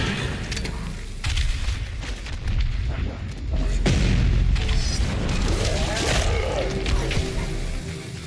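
The BFG 10,000 fires in the video game Doom Eternal, heavy deep booms and rumbling blasts rolling on continuously, loud and close, swelling midway through.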